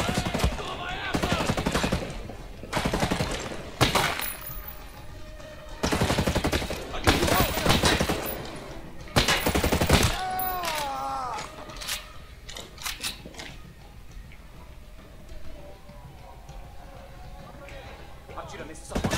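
Repeated bursts of automatic gunfire in the tactical shooter Ghost Recon Breakpoint, several loud volleys separated by short pauses, mixed with game effects while a player talks over the action.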